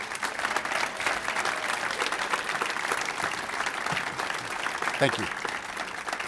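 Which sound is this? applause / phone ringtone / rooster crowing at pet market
applause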